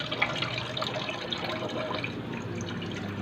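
Running water from a tap splashing steadily into a sink while milkfish (bangus) is washed for paksiw, a continuous close wash with a few small splashes and drips, no talk.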